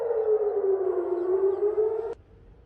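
An air raid warning siren in Eilat, Israel sounds loudly with one steady sustained tone, then cuts off abruptly near the end, leaving faint background noise.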